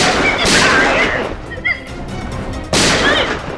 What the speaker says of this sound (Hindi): गन चलाना मुझे भी आता है।